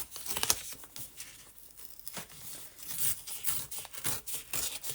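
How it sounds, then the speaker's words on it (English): Paper is torn by hand to make a cover for a junk journal, with several close, quiet ripping and crinkling bursts spread unevenly across the moment and no speech. "See if I can manage to rip this."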